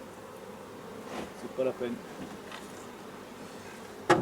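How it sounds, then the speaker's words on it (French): Honeybees buzz around hive frames while a beekeeper works the hive, a faint, steady hum with a few closer buzzing passes and a brief spoken remark. "Je fais attention de ne pas écraser les abeilles là."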